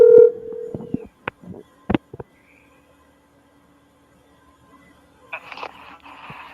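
Someone places a phone call to a radio show: a steady tone is followed by a few short clicks and beeps, then near silence, and a faint burst of ringing or line noise comes at the end.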